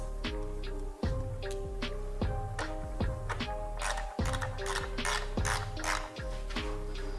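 A ratchet tightens the taillight nuts on a BMW F25, a steady close buzz of rapid pawl clicks in repeated strokes, each pass broken by a brief pause as the handle swings back, with no voice.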